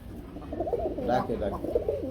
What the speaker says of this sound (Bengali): এটা যে গোল্লা কবুতর এটা কিন্তু আবার ডাকে